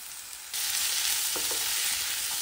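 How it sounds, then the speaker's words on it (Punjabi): Tomatoes fry with onions, green chillies and cashews in a pan for a dhaba-style methi matar malai. A steady, close hiss of sizzling starts suddenly and carries on, with a couple of faint stirring clicks. "ਟਮਾਟਰਾਂ ਨੂੰ ਅਸੀਂ ਉਦੋਂ ਤੱਕ ਭੁੰਨਣਾ ਆ ਜਦੋਂ ਤੱਕ ਟਮਾਟਰ ਪੂਰੇ ਤਰੀਕੇ ਦੇ ਨਾਲ ਨਰਮ ਵੀ ਹੋ ਜਾਂਦਾ।"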